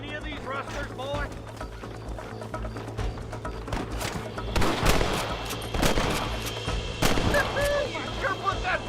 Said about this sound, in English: Are you gonna shoot any of these rustlers, boy?